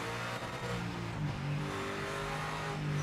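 A sports car in Project Motor Racing, on the old-school sports car course layout, gives off a loud, steady engine drone that rises slightly in pitch as it revs. The tone is strongly harmonic and heard close, with no speech.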